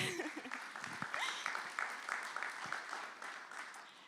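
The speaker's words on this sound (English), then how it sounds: "please cheer for that" Church congregation at a Sunday service cheering and clapping for a baptism, a steady patter of applause with scattered whoops, moderately distant.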